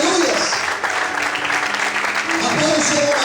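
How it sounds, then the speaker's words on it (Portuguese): A church congregation clapping during an evangelical service, steady applause mixed with voices and someone speaking over it. "Aplauda o Senhor mais forte."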